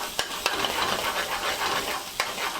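Chopped onions sweating in a pan over medium heat for a Chicken Handi, with a steady close sizzle and two or three sharp stirring scrapes of a utensil against the pan.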